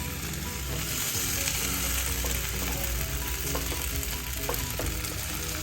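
Tomato rice pulao frying in a pan over the flame, giving a steady, dense sizzle with faint scraping clicks from stirring throughout, close and continuous with no talking.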